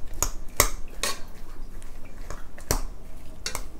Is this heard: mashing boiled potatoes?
yes